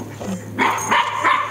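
A dog barks three times in quick succession, sharp and fairly close, while herding ducks, with a quiet outdoor background between barks.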